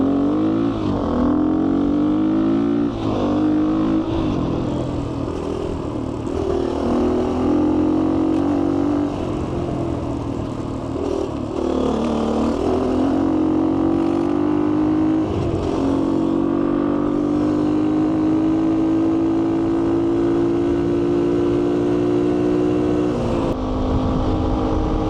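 A GPX FSE250e motorcycle engine drones loudly on a road ride, its pitch climbing through the gears and dipping at shifts, with steady wind rush and no talk.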